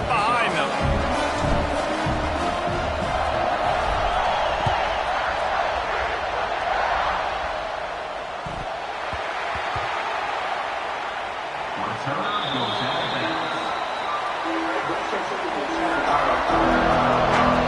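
Stadium crowd noise from College Football 26 swells as a dense, steady roar at the kickoff, filling the whole stretch, with a play-by-play announcer talking over it.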